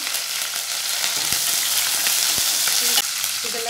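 Chopped onion and curry leaves fry in hot oil for a chickpea kuzhambu, a loud, constant sizzle with a few dull knocks of stirring.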